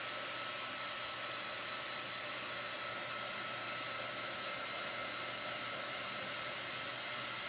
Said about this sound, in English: I'm going to use my little dryer here just to get that dry because we are layering.